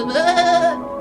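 A stage actor in a theater comedy imitates a flock of sheep with a single loud, wavering, nasal bleat lasting under a second, delivered close and alone.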